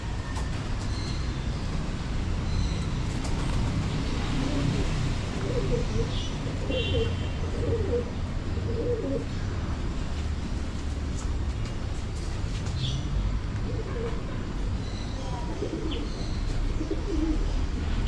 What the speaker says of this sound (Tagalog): Ito mga kalapate.